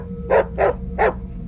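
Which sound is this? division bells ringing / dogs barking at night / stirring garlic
dogs barking at night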